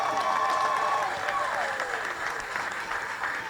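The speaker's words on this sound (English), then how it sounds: "He deserves a hand clap." A crowd at a political delegates conference claps in a dense, steady roar, with voices and cheering mixed into the ongoing applause throughout.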